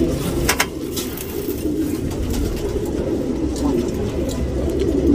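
A tournament racing pigeon coos in a loft in Bangalore, soft repeated low calls over steady background noise with a few faint chirps, and no talking.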